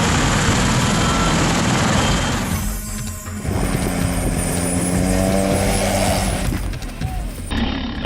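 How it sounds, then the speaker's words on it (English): A loud, steady aircraft roar with heavy rotor thrum from a V-22 Osprey tiltrotor fills the whole stretch, swelling and dipping as it passes close overhead above a park. "An old video captures a V-22 Osprey helicopter flying over Clove Lakes Park in New York during Memorial Day."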